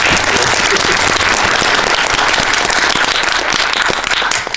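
Loud, dense audience applause at a Korean film screening guest visit with the cast, sustained clapping filling the room throughout before easing slightly at the end.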